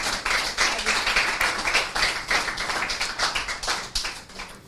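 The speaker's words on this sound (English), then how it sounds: "Round of applause for Holy Child." A school quiz audience applauds a team advancing to the finals at a Children's Day event, with dense, steady clapping from many hands filling the room for several seconds.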